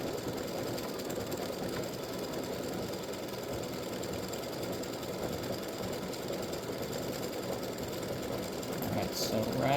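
An embroidery machine stitches out FSL bat earrings, its steady, dense mechanical whir and rapid needle clatter running continuously and fairly loud from start to finish.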